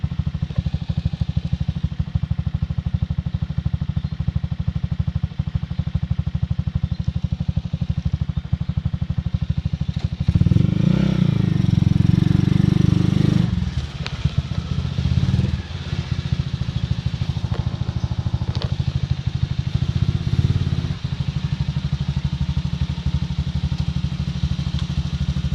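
A Honda CG 125 motorcycle engine runs steadily while riding, a loud continuous mid-pitched drone with clattering mechanical texture that swells briefly partway through, then settles back to a constant throb.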